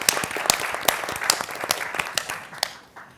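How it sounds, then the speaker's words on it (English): Audience applauding panelists at a National Archives conference, sparse, distinct hand claps in an uneven rhythm that thin out and fade toward the end. "giving a round of applause to all our panelists would be appropriate too"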